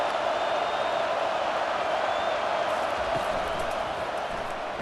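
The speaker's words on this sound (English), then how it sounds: "Decibels rising as the crowd gets behind this defense on 3rd down." Stadium crowd in the video game College Football 25, NC State versus Florida State, roaring steadily on a third down, a dense continuous wash of cheering that holds at high volume throughout.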